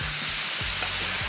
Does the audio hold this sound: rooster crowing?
no